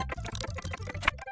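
Clicks of a keyboard spacebar and a left mouse button, about nine close, fairly quick taps in an uneven rhythm, one sharper click near the end, with no other sound.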